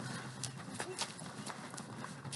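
Hooves of a horse ridden in circles at a ranch clip-clop in a steady, muffled rhythm over wind-like noise, with occasional soft knocks and no clear talk.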